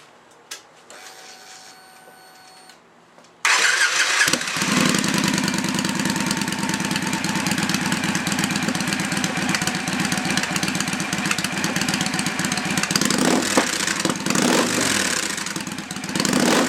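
A Victory motorcycle fitted with new aftermarket swept exhaust pipes starts up and settles into a loud, steady, rumbling idle close by, running alone without talk for most of the clip.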